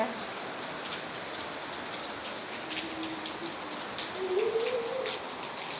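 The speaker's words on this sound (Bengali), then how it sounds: "অনেক পানি নামছে অনেক জল বৃষ্টি হচ্ছে" Steady heavy monsoon rain pours down on a house with an unsealed roof in a constant dense hiss, with a faint bird call rising briefly near the end.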